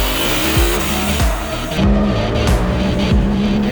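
A UTV launches off the start line at King of the Hammers, its engine revving hard through several rising gear pulls, loud and close, with no voices.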